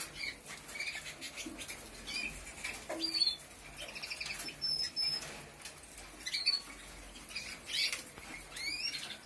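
A yellow male cage bird gives a few short, high chirps spaced several seconds apart, fairly close but not loud, over a soft rustling room background.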